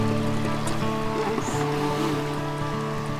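An AquaCraft Mini Alligator Tours RC airboat runs on the water, its small motor making a steady droning whine with shifting harmonics, loud and close over lapping water for the whole stretch.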